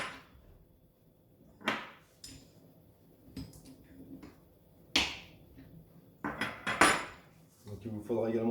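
Sharp metallic clinks and knocks ring out as wrenches, 17 and 21 sizes, dismantle parts of an Alboran FX 2020 stepper; scattered bright hits come at irregular intervals, close and fairly quiet, with several quicker clusters near the end.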